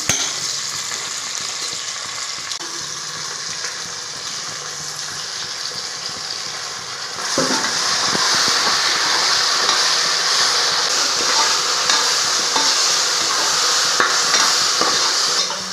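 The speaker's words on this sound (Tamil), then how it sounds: "நம்ம வெங்காயம் சேர்த்துக்கலாம். வெங்காயம்லாம் நல்லா வதங்கட்டும்." Onions sauté in a pan for double beans biryani, giving a steady sizzling hiss that grows louder and denser about halfway through, with occasional stirring clinks and no talk.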